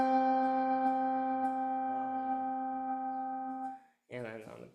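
A large handbell rung with hand vibrato, its low sustained tone wavering gently as it decays for several seconds before a voice starts speaking.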